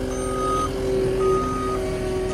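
A skid steer loading brush into a dump trailer sounds its steady reversing beeps over a continuous engine rumble, moderately close and with no talking.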